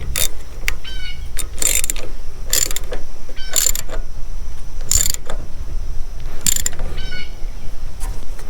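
A ratchet wrench fitted with an extension bar turns a part on a lawnmower. Loud, close bursts of rapid clicking repeat every second or so, separated by brief pauses.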